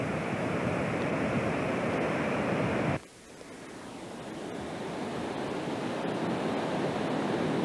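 Ocean surf at the south end of Mission Beach near the Mission Bay jetty, a steady loud wash of breaking waves that drops abruptly, then builds back to a softer continuous roar.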